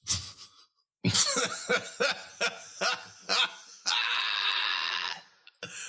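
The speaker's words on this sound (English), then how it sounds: "Why you clear your throat, sir?" A few rough throat-clearing coughs in short bursts during a podcast, followed by a longer raspy exhale; nearby and fairly loud, with no talking.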